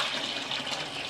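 Water pours steadily into a cooking pot while biryani is being prepared, a close, continuous splashing gush lasting about a second.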